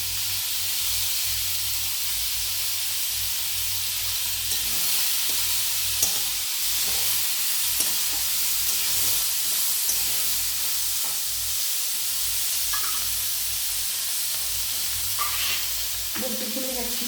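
Drumstick stems sizzling in a pan for neem sukto, a continuous hissing fry with soft stirring clinks throughout and a faint voice near the end.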